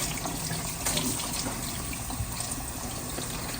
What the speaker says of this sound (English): we're going to rinse it under cool water just to get the excess salt off